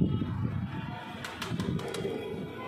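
A female pigeon of a Teddy breed from the UAE coos nearby in a few soft, low calls over a steady background hum, alongside faint wing or shuffling sounds.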